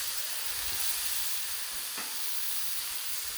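Mushrooms frying in ghee on a griddle, a loud continuous broadband sizzle that holds steady throughout with one brief tap partway through.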